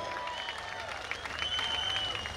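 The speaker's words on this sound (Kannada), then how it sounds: "ಜೋರಾಗಿರುವಂತಹ ಚಪ್ಪಾಳೆ ಕಾರ್ಕಳ ಟೈಗರ್ಸ್ ಇಡೀ ತಂಡಕ್ಕೆ ಕೊಡಬೇಕು" An audience at a stage event during the Karkala festival breaks into steady, dense clapping that holds evenly for the full stretch, with faint crowd murmur beneath it.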